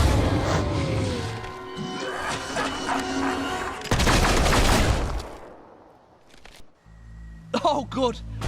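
Gunfire and crashing impacts in the video game Fable 3, a dense stretch of shots and blasts under game music, dying away before a voice speaks near the end.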